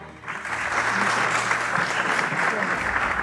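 Loud, dense applause from the audience at a school award ceremony swells quickly and holds steady, with a low hum and some crowd voices mixed in.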